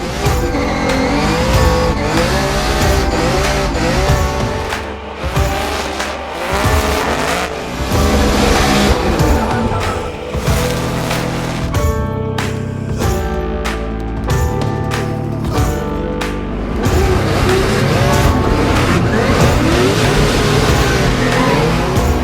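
A Nissan 370Z drift car on Nexen tires screams through a run, its engine revving hard while the tires squeal continuously, loud and sustained with shifting engine pitch throughout.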